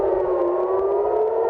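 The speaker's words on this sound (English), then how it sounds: "which set off sirens in Tel Aviv this morning once again." Air raid sirens wail in Tel Aviv after ballistic missile fire toward Israel, a steady sustained rising tone that fills the whole stretch at close, loud level with no talk over it.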